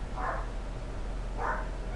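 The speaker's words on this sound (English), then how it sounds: "and my dogs are barking" Two muffled dog barks, about a second apart, sound from a distance over a low steady hum.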